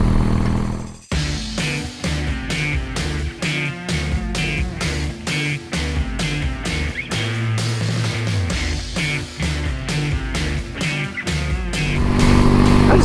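A vintage Triumph chopper motorcycle cruising Florida roads, its engine running steady and loud throughout with a continuous throbbing rhythm close to the listener, joined midway by what sounds like a car passing.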